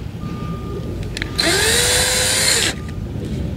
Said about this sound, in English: You don't want to drill it completely through and then hit something else on the door panel itself.